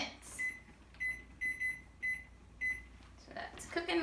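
A kitchen oven timer being set sounds a string of short, evenly spaced electronic beeps, about six in a row, followed by clattering and faint voice-like sounds.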